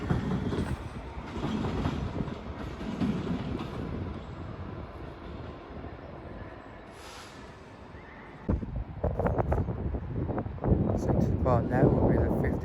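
A Class 66 locomotive, 66 746, rumbles past hauling a train, with wind buffeting the microphone and the roar swelling again near the end as wagon wheels clatter closer.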